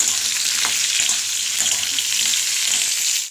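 Eggplant pieces fry in hot oil for a potato-and-eggplant fish curry, a dense, loud, continuous sizzle close up with a few faint stirring knocks and no voices.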